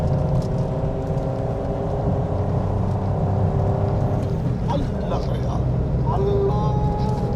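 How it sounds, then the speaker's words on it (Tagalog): A vehicle climbs a winding uphill road, its engine humming and whirring continuously while people talk over it. "yung tunog na lang ng sasakyan yung ipapakita ay ipaparinig namin sa inyo"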